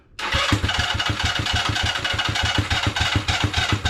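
A scooter engine sputters to life after a brief silence and settles into a steady, close, loud putt-putting idle with an even pulsing rhythm, no speech over it.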